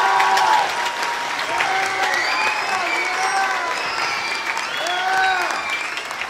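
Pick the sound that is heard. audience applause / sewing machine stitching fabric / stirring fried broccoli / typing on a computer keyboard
audience applause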